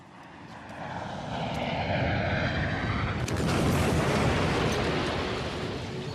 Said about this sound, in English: The plane hit the sea with such force